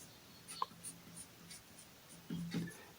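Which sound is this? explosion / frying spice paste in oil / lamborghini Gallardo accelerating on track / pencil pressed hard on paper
pencil pressed hard on paper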